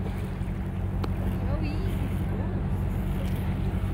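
A large cargo ship passes along the Houston Ship Channel, heard as a steady low rumble and water wash under wind noise, with voices talking faintly over it.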